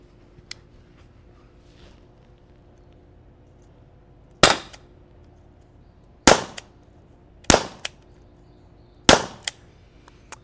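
A Byrna LE launcher fires rubber-steel ammo, four sharp, loud pops spaced a second or two apart after a quiet stretch, with faint clicks around them.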